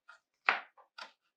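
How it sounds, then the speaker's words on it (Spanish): A knife chops vegetables into fine brunoise cubes on a cutting board in four crisp, close taps at an uneven pace, with quiet between them. "Se están picando los vegetales."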